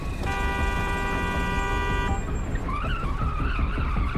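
A car horn blares in a sustained loud honk for about two seconds in a film scene, over engine and traffic rumble, followed by a squealing, skidding sound as the car drives off.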